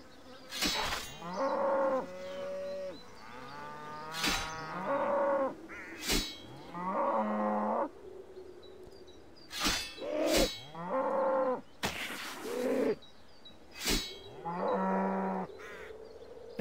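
Cows in a pen in the RuneScape video game give repeated drawn-out moos, about seven or eight separate calls spaced a second or two apart, each loud and close, separated by sharp clicking game sounds, with no talking.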